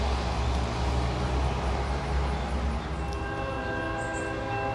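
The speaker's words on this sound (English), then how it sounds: "First train of the day here in Dalton, Georgia." Freight train passing a station in Dalton, Georgia at the start of the day: a steady, loud rumble of rolling rail cars with a held horn tone, continuous throughout with no talking.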